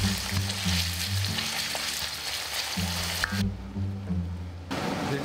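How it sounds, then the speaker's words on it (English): Onions sizzling in a hot pan, a steady crackling fry with gentle hiss and pops that runs throughout, briefly thinning before it returns. "Onion is now getting cooked"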